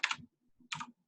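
Numbers being typed on a computer keyboard: two crisp, close keystroke clicks about 0.7 seconds apart with faint soft tapping between, in a quiet room.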